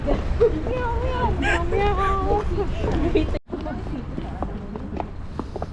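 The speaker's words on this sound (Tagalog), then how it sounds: "Panay ang tunog ng sapatos, yung parang kabayo." Hard shoes clopping on pavement in a quick, uneven rhythm like hooves, under a lively babble of voices, then steadier steps continue.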